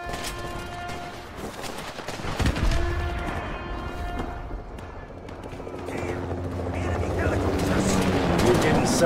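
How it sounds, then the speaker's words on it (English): Helicopter rotor thrum and bursts of gunfire from the video game Call of Duty Warzone, a dense battle mix that swells louder toward the end, with a voice talking underneath. "We need to protect my men from those helicopters."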